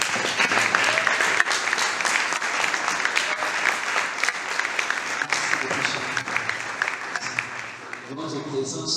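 Sustained applause from an audience at a student parliament gathering in Kinshasa, dense, loud clapping that continues for several seconds before thinning toward the end.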